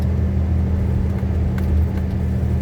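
An Isuzu 360 truck engine labours uphill in third gear on a mountain pass road in Cambodia, a steady loud low rumble with a constant drone that holds its pitch throughout, no voices.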